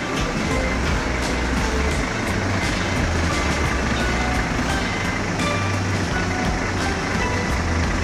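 A premium intercity bus reverses in a busy parking area. A heavy, continuous engine rumble runs under a regular series of short reversing beeps throughout.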